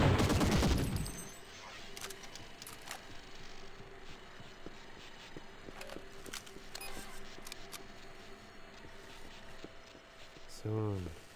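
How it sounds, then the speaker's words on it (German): M16 rifle fire and a grenade in a Half-Life mod shooter: a loud, rapid burst opens the moment, then fades to sparse clicks and distant pops with a brief tonal game sound near the end. "Wir nehmen die normale M16 und gleich Granate."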